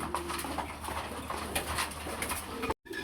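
Pigeons offered for sale coo softly in repeated low calls, close by, with faint bird flutters and background rustle and no speech, ending with a brief cut.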